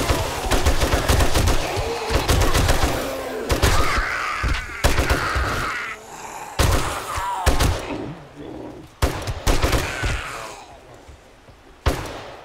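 Gunfire at a shooting range in the video game 7 Days to Die, loud bursts of rapid shots alternating with single heavy reports, pausing between volleys, with voices talking in the gaps.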